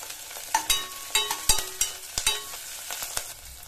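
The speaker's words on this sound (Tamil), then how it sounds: "இப்போ இந்த வெங்காயம்லாம் ஓரளவு நல்லா வதங்கி வரட்டும்." Onions, chillies and curry leaves sautéing in a pan under a soft sizzle, punctuated by a steady series of sharp spatula taps and scrapes about twice a second, close by, with no talking.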